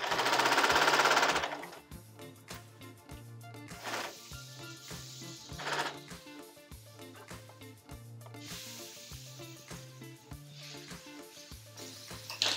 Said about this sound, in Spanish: Y coso por todo alrededor.